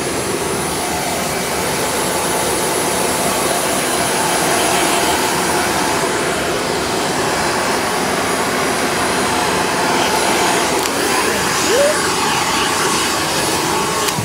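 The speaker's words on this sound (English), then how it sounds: "We'll just grab the blow dryer." A handheld blow dryer dries freshly cut hair after a pixie haircut, a loud steady whooshing roar that runs unbroken, with a faint sound partway through.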